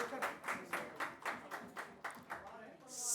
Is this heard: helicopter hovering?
no